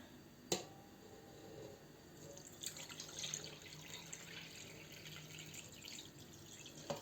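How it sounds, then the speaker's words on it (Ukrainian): Water is poured into a jar of zucchini topped with stones, a quiet trickling and splashing stream close by, with a sharp knock at the start and small clinks near the end. "І вливаю тут води."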